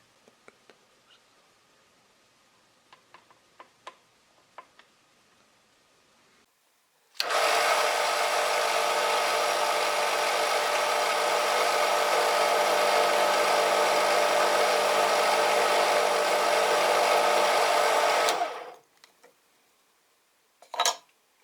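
A power drill whines loudly and steadily for about eleven seconds while boring through a wooden bead, preceded and followed by faint clicks and handling taps.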